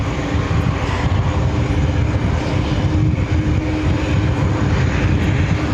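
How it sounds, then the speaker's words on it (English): Delta Airbus A220-300 on pushback at JFK airport, a steady loud engine drone and rumble that holds evenly throughout. "Delta A220 300 being pushed back."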